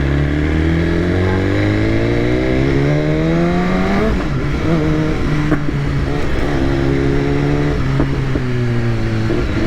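A BMW S1000RR sport motorcycle engine rises and falls through gear changes while riding, loud and steady throughout with repeated rising revs and no talk.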